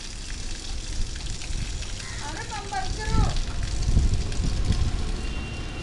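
Running water from a tap during a child's bath, a continuous broadband hiss and splash throughout with voices talking over it.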